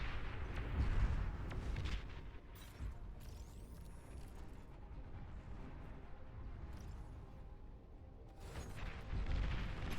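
Heavy weapons firing in a battle video game, a dense roar of booming blasts and mechanical clatter that rises and falls, loud and continuous with a whistling shot partway through.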